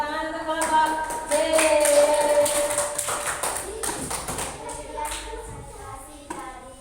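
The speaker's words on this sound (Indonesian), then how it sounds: "Beri tepuk tangan untuk kelompok C." Applause from a classroom group of children and adults, a steady patter of many hands clapping for several seconds, with children's voices chattering over it.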